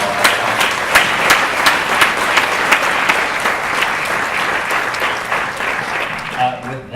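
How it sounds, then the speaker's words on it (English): Loud audience applause at a keynote address during a livability summit, dense and sustained clapping from a large crowd across the whole span, with individual claps standing out before it thins and fades near the end. "please join me in a round of applause"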